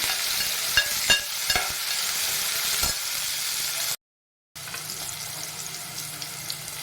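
Chopped onions sizzle and crackle in hot oil in a pan for a tempering, with shirvali noodles going in alongside them for a spicy amti of soaked mixed pulses and potato. The steady frying hiss is broken by occasional stirring clicks and a brief gap.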